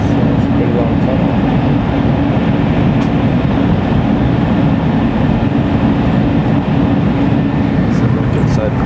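A bullet train runs through a long tunnel between Tokyo and Kyoto, giving a steady, loud, dense rumble that roars on without a break. It sounds enclosed, close and unchanging throughout.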